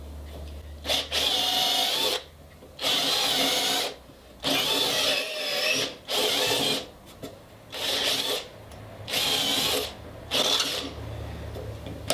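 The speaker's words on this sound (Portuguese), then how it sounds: "Como a gente tem a furadeira de coluna, a gente pode então fazer esse movimento com a madeira" A drill press bores into wood in repeated bursts of about a second or two each, a rasping whine with short quiet gaps between passes, close and loud.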